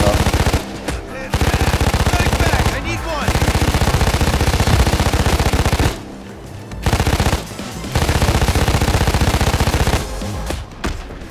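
Heavy automatic gunfire in a video game, loud and close, with long sustained bursts broken by short pauses and some talk.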